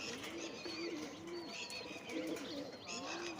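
Rooftop loft pigeons coo in soft, repeated, throaty phrases, fairly faint, with a few light chirps scattered among them.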